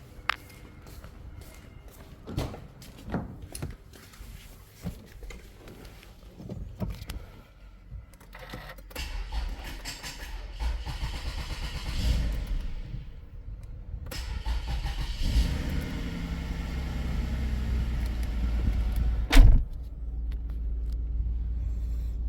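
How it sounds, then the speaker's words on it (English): A Toyota Alphard/Vellfire engine cranks and turns over after some handling noises, then settles into a steady low idle rumble with a brief rev near the end. "then we'll start the engine."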